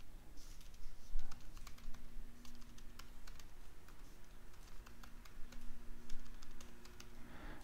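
Steady typing on a computer keyboard while a password is entered on a Mac running Mountain Lion Server, a fast continuous run of close, crisp key clicks over a constant low hum, with no talking.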